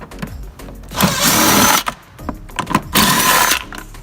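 Two bursts of an impact tool spinning off 10mm nuts on a 50cc moped, each lasting about a second, separated by clicks and ratcheting rattles.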